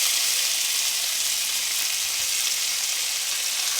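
Diced tomato sizzling in hot bacon grease, a steady bright crackling hiss that stays even and close throughout, with no voices.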